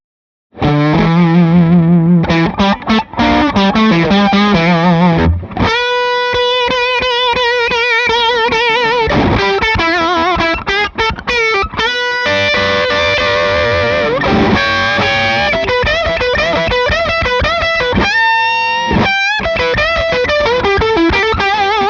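Electric guitar plays loudly through stacked gain pedals including a Nobels ODR-1, giving a thick distorted, chorus-tinged tone in sustained chords and choppy stabs with short pauses.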